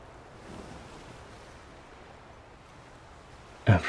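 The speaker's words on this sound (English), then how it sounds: "Every sleep app uses the sounds of ocean waves for hypnosis and meditation." Ocean waves play as a sleep sound in the video game Love and Deepspace, a soft, continuous low wash of surf that ends in a sudden louder burst.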